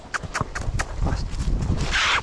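Horse hooves clop in a few uneven steps nearby, followed by a breathy snort or blow near the end.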